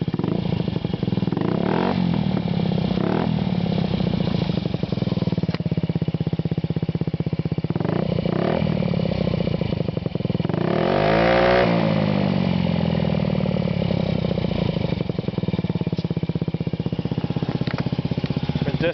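A 2009 Honda Ruckus 50cc scooter fitted with a Yoshimura TRC aftermarket exhaust idles with a steady buzzing drone, then revs up in a rising, clattery burst near the middle and settles back, close and loud throughout.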